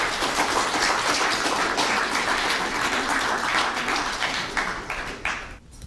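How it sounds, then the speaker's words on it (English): A lecture audience gives a warm round of applause to welcome the speaker, dense clapping that holds steady and loud before tapering and dying away at the end. "Please welcome Dr. Ross King with a loud and warm round of applause."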